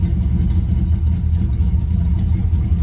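An old MGB engine, run for the first time in 27 years, pulls the car off from standstill: a loud, steady low rumble that holds throughout, close by, with no speech over it.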